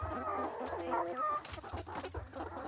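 Backyard poultry chickens packed in crates during a delivery cluck and squawk in a busy, overlapping chorus, close by, with faint background murmur.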